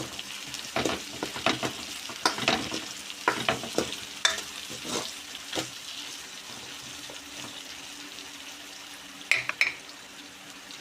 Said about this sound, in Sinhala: ඔක්කොම ටික කවලම් කරන්න.